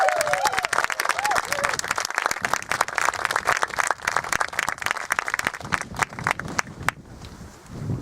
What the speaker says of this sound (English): So I think we should all applaud for each other.